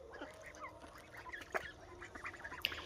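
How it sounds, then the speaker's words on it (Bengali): Ducks on a farm quack and call repeatedly, with several sharp nearby squawks standing out from steady background chatter of the flock. "এই দেখুন হাঁসগুলো দেখুন শুধু।"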